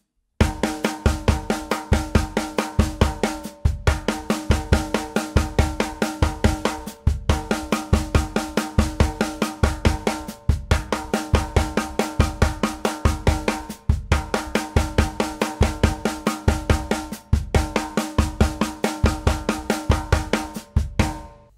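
Snare drum rimshots with accents on both the right and left hand, struck in a steady, even stream of ringing hits grouped into repeating bars with brief gaps between them, close and loud with no talking.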